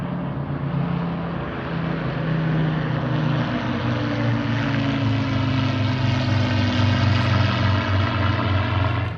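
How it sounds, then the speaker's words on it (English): Several Spitfire fighter planes circle low over a campsite at the Goodwood Revival, their propeller engines droning loudly and steadily overhead for the whole stretch, the roar swelling slightly as they pass close. "these Spitfires circling round our heads early morning in the campsite"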